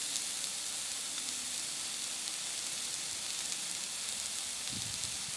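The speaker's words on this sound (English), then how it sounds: "We're gonna go ahead and sear this up on all four sides and the ends." Beef tenderloin searing in a hot Dutch oven, a dense, continuous sizzle and hiss of fat and meat, steady and close throughout with no talking.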